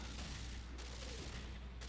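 Gunfire in the tactical game Front Mission 3 comes as a steady, fairly faint volley of shots with a low rumbling base and two sharper bursts, all on its own with no talk.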